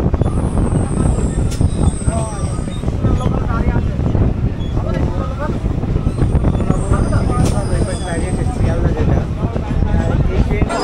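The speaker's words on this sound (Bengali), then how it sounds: "তো কৃষ্ণনগর ঢুকে গেছে ট্রেন।" A local train rolls into Krishnanagar station with loud, close rumbling and rattling of wheels on rails, punctuated by high-pitched wheel squeals, while voices chatter faintly in the carriage.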